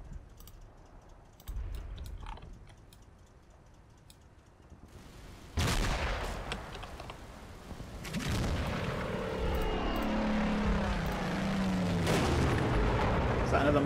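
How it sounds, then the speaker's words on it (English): Mortar rounds exploding in Combat Mission: Battle for Normandy, a sudden loud blast breaking a quieter stretch and followed by further rumbling detonations, with voices talking now and then. "Is that another mortar round?"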